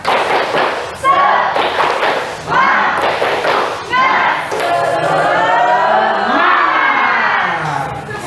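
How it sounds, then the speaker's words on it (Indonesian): A classroom of students performs a rhythmic clapping chant of motivation, with loud patterned claps and thuds mixed with children's shouted chanting voices, energetic and close. "kita melakukan tepuk semangat dulu"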